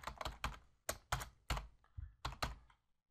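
Code typed on a computer keyboard, a short burst of crisp, close key clicks in uneven clusters with brief pauses between them, and no talk.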